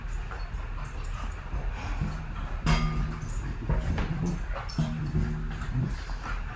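Two dogs whimper, yip and play in a room close by, making repeated short whines and cries in bursts over a steady background hum.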